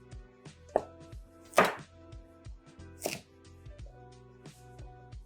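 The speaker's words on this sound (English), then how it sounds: "I'm going to cut it into large chunks." A knife chops vegetables into large chunks on a cutting board, sharp clear thunks with a few louder, ringing strokes spaced irregularly over several seconds, close and unaccompanied by talk.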